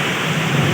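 Heavy rain pours in a dense, steady hiss with a low rumble underneath, brief and loud, during flooding at a house.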